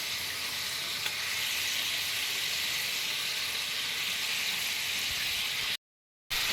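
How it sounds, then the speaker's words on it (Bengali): Fried pabda fish slid into a simmering yogurt gravy set off a steady, dense sizzle and bubbling that holds evenly throughout, broken once by a brief total dropout near the end. "এবার আমি দেখো ভেজে রাখা মাছগুলো দিয়ে দিচ্ছি একটা একটা করে"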